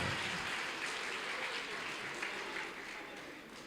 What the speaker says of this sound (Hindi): तालियां बजा दीजिए एक मरतबा शिव सागर भाई को।